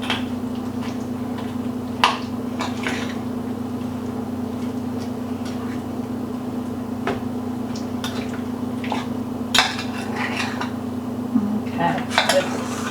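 Peaches are stirred with sugar in a bowl, producing soft wet squishing and light clinks of utensil on the bowl, intermittent and close over a steady low hum.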